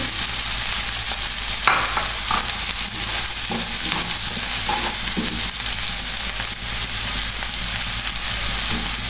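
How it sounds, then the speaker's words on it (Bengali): Noodles stir-fried in a pan with salt and a previously fried egg, giving a steady loud sizzle throughout with scraping stirs and clinks of a utensil against the pan, no voices. "আমি যে ডিমটা ভেজে রেখেছিলাম এটা দিয়ে দিচ্ছি"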